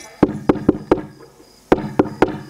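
Knocking on a closed village house door at night, two bursts of four sharp raps each, separated by a short pause, close and loud with no talking.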